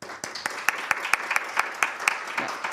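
An audience applauds at a Korea-Germany digital health technology cooperation forum, a dense, steady spread of clapping with sharper individual claps standing out, moderately loud and continuing throughout.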